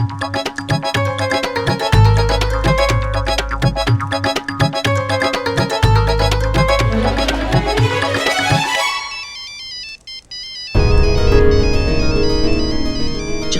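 A phone rings with a melodic ringtone, a repeating electronic tune over a thumping beat that plays for several seconds and then cuts off, followed by a different loud steady tone.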